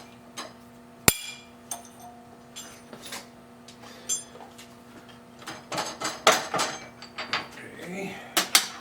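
Sharp metallic clinks and knocks in a workshop as a small drill chuck is fitted into a small lathe, one loud clack followed by a run of irregular taps and rattles of metal parts being handled.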